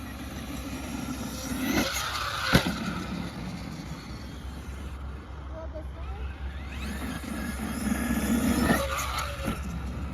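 A Traxxas E-Revo 2.0 RC car whines and revs in the distance, rising and falling as it drives and jumps, under steady wind noise with people talking.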